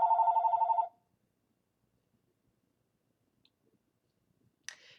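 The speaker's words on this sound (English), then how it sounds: "Now I'm going to have to wait until it stops ringing." A telephone rings early in the morning, one short repeated electronic trill close by that cuts off after about a second, leaving near silence broken by a few faint clicks.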